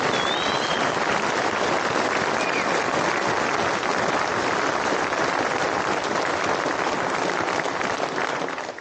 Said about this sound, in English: can you give them all a round of applause?